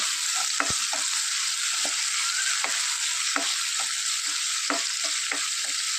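Garlic, ginger and green chillies sauté in oil for a dried prawn and mango pickle, a steady close sizzle broken by regular scraping strokes of a spoon against the pan.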